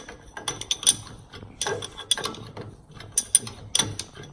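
Ratchet wrench tightening the charging nut on a nitrogen-charged monster truck shock absorber, giving several quick bursts of sharp metallic clicking, close and fairly loud, separated by short pauses.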